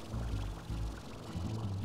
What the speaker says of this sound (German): Da kann ich das Wasser auffüllen.